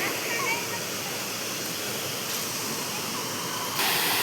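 Yogendra waterfall pours in a steady, full broadband roar that stays constant throughout and swells a little louder near the end, with no clear speech over it.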